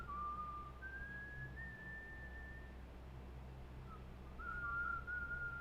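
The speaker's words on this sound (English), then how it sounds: "He's whistling the Imperial song" A video game character whistles the Imperial song, a clear melodic tune in two phrases separated by a short gap, over a low steady background hum.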